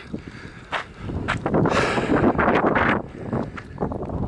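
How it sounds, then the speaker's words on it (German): Gusty wind buffets the microphone in rough bursts, with rustling and a few scuffing steps nearby. "Es ist ein bisschen windig, es tut mir leid."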